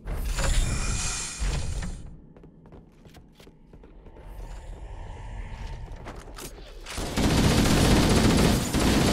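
Shotgun blasts from Halo: Combat Evolved on the Two Betrayals level at Heroic difficulty boom in bursts, with quieter mechanical clanks between them and a heavy roaring barrage near the end.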